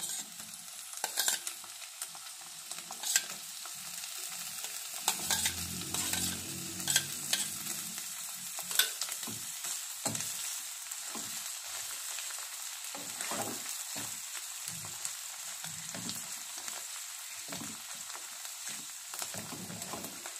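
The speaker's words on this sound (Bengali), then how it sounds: "খুব ভালো করে নেড়ে চেড়ে নেব" Teasel gourd filling being stirred as it fries in a pan, a soft continuous sizzle broken by repeated scraping and stirring strokes, quiet and close, with no voices.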